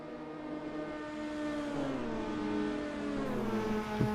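Racing car engine in a DTM video game at Spa, a steady droning whine that rises and falls slightly, moderately loud with a small knock at the end.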